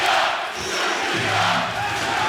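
A basketball crowd roars steadily through a Latvia vs Serbia FIBA 3x3 game, with a swell of low, chant-like voices midway, all dense and continuous with no clear commentary on top.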